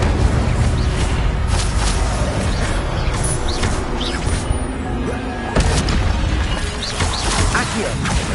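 Fire spell cast in Hogwarts Legacy on PS5, heard as a dense, loud burst of booming, crashing game effects that runs through the whole stretch with other spell sounds and a player's voice mixed in.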